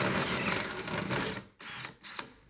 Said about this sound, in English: put this on my drill, and let's put a hole up into my attic